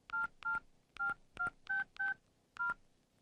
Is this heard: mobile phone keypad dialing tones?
yes